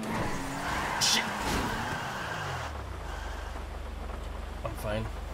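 A heavy Toyota JZX100 Mark II skids on a wet track at Minami in a racing game, its engine droning under a rough slide and impact, then settling into a steady low idle hum, with a voice talking over it.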